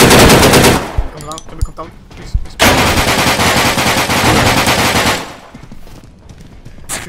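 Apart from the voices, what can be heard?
gunfire from machine guns in the video game Deadside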